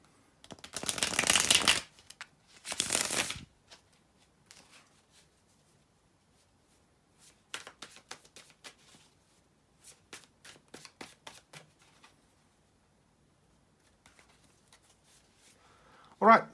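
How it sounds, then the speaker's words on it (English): Tarot cards being shuffled in two loud bursts, then scattered softer riffles and card snaps, with a sharp tap at the end. "to shuffle the tarot cards"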